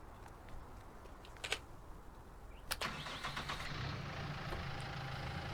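A tractor engine in Farming Simulator 19 cranks with a couple of clicks, then settles into a low, steady idling rumble, faint and distant.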